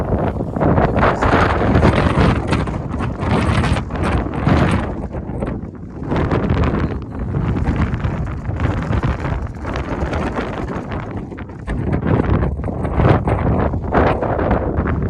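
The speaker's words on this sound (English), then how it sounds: "The wind is blowing so hard." Strong wind gusts buffet the microphone on an exposed mountain trail in New Hampshire's Presidential Range near Mount Washington, a loud, rough, continuous roar rising and falling in waves, with no talk over it.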